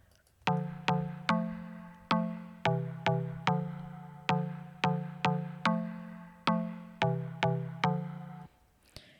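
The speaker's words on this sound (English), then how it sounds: "Yeah, so that's your classic, house plucks, tropical plucks." Synth house plucks, of the tropical-house kind, play a steady rhythmic pattern of about twenty short, bright notes. Each note has a sharp attack and a quick decay. The pattern runs alone with no voices, stopping just before the end.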